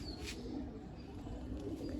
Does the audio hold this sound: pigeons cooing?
yes